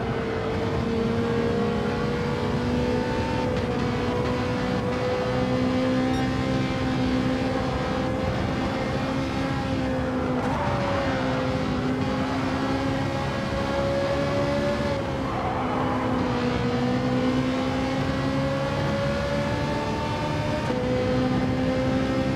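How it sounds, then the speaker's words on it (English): Two Ferrari race cars in Gran Turismo 7 run close together, a loud, steady engine drone with sustained tonal harmonics that dips and climbs as they shift and accelerate through the whole stretch. "Oh, two of these Ferraris together, listen to it."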